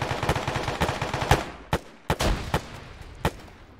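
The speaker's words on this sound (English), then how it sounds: "Where are these explosions happening?" Battlefield combat in the video game Arma: a rapid burst of automatic gunfire followed by several separate heavy shots and blasts, loud and close, with gaps of quiet between the later reports.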